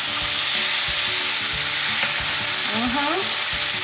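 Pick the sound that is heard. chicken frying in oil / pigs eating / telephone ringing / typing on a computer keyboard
chicken frying in oil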